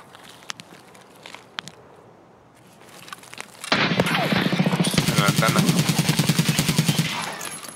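Automatic gunfire in the shooter game Escape from Tarkov rips out as a rapid, loud, sustained burst in the second half, after sparse footsteps and scattered shots at the start.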